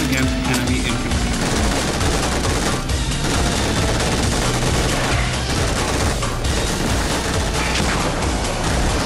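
A Leopard II tank's coaxial 7.62mm machine gun fires in a dense, continuous, loud barrage of overlapping shots and booms, with a battle din filling the whole stretch.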